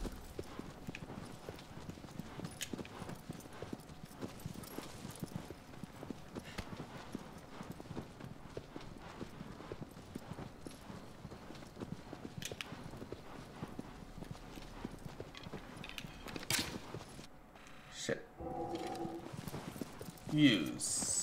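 A horse's hooves clip-clop in a rapid, steady rhythm as it gallops through the Shadow of the Colossus game world, continuing for most of the stretch before easing off near the end, with someone talking over it at times.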